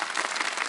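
A studio audience claps during a Ramadan TV quiz transmission, a brief, steady, dense burst of applause that plays alone.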